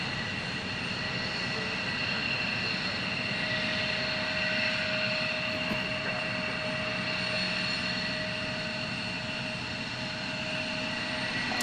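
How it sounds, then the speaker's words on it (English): An Alaska Airlines Boeing 737 MAX jet roars steadily at Portland International Airport, a continuous loud engine drone with a sustained whine that holds for the full stretch. "Looks like another Alaska 737 MAX."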